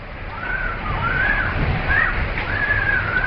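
Typhoon floodwater pours and sloshes into a room in a steady, close rush, with intermittent whistling wind tones above it.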